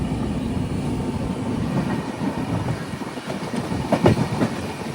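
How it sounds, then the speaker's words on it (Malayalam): Poorna Express, a Pune to Shoranur train, pulling into Gokarna Road station: a steady rolling rumble of wagons with rising clatter and a few sharp metallic clicks near the end, fairly close and unbroken. "ട്രെയിൻ ഇതാ ഗോകർണ റോഡ് സ്റ്റേഷനിലേക്ക് എത്തിയിരിക്കുകയാണ്"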